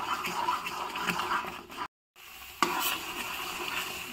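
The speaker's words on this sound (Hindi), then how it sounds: "बस 2-4 मिनट और हम इसे ऐसे चलाएंगे, लेकिन आप ये चीज़ ध्यान रखें कि इसे चलाते रहें" Carrot halwa being stirred in a pan on the stove, a steady soft scraping and sizzling with spoon strokes against the pan, a brief gap of silence midway, then the stirring resumes, with no talk.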